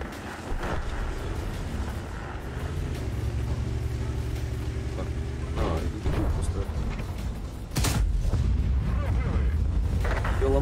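Tank cannon fire in an online tank battle game, heavy booming shots with sharp blasts near the middle and end over a continuous engine rumble, with someone talking over the action.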